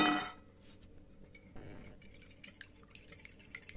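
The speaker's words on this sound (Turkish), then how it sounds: "İlk önce çırpıyoruz." Three eggs whisked in a bowl for a water börek, a quiet run of soft clinking and swishing strokes after a louder knock at the start, with no talking.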